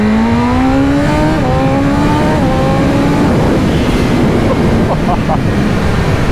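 A BMW M1000RR motorcycle accelerates hard through several gears, the engine note climbing and dropping with each shift, heard from the rider's position under loud, constant wind roar.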